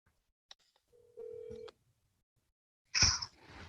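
A telephone is dialed to place a call: faint clicks, then a short steady electronic tone, a pause, and a louder burst of noise near the end, all against a quiet background.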